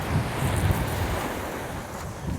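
Steady roar of ocean surf washing in at Topsail Beach, Newfoundland, Canada, with wind buffeting the microphone throughout and no voices.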